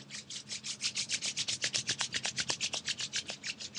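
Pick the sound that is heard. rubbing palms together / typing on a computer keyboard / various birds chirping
rubbing palms together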